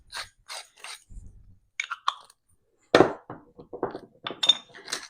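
A salt grinder cranking pink Himalayan salt in a home kitchen, giving scattered gritty crunches and clicks in short uneven bursts, close and moderately loud.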